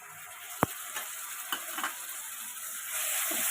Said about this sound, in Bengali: একটু নাড়াচাড়া করে নিয়ে আদা রসুন বাটাটা দিয়ে দেব।